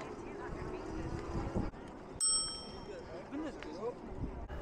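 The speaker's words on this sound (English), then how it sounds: "Always useful to have a bell on your bike." A bicycle bell on a bike riding through central London gives one bright ring that fades slowly, heard over wind rush and traffic noise, with a person talking.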